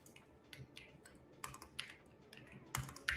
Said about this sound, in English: Sorry for my typing, guys.